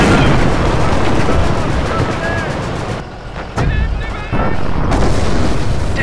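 A British 25-pounder artillery gun fires in Company of Heroes during Operation Bluecoat in 1944, heavy booms over continuous battlefield rumble, with a brief lull and radio-style voices talking.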